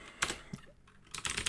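Computer keyboard keys tapped in short bursts, a quick cluster of clicks then a pause and a second faster run, close and fairly loud.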